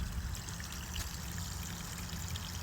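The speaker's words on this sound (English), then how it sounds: "Look at that waterfall" Water from a small waterfall trickles and splashes into a garden pond holding koi and goldfish, a faint, steady stream sound with no talk.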